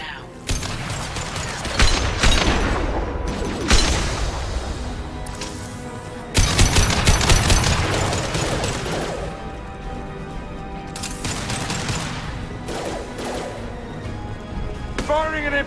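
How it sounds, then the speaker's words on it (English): Weapon fire from the video game Mass Effect 2 sounds in several loud, sharp blasts and crashes over a layered game soundtrack, with in-game voices speaking in between. "Firing an impact shot."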